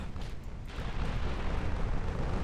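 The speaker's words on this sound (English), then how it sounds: "Torpedo hits." A torpedo hit explodes in the naval warfare game Ultimate Admiral Dreadnoughts, a heavy booming blast that swells into a loud, sustained low rumble with no talk over it.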